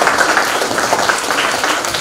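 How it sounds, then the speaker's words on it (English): An audience of parents at a school annual function breaks into steady, dense applause that holds at an even level throughout, with no voices rising above it. "I request all the parents to please give a big round of applause for CCA department."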